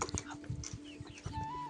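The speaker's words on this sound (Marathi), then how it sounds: "हे बघा सानू इकडं कसं कोंबड्यांना धरणं चालू आहे" Chickens cluck in short, faint bursts while being caught, with scuffling and a few scattered sounds close by.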